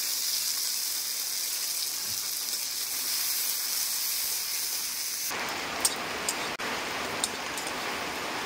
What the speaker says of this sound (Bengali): ঘি গরম হয়ে গেছে, এবার কিশমিশ আর কাজু বাদামগুলো ভেজে নেব।